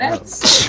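A short sneeze from a video game character in Numinhurst: The Hidden Wish, a sharp burst close up with a voice speaking around it.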